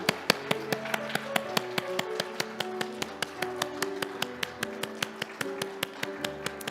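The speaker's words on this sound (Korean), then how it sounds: "하나님께 영광의 박수 올려드리겠습니다" Church congregation clapping in a steady, even rhythm at a Sunday service, the sharp claps falling about four per second alongside sustained keyboard or organ chords, moderately loud throughout.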